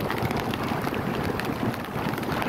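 Heavy rain and gusting wind over a flooded rice paddy, a steady dense hiss with low rumbling buffets close to the microphone, no voices.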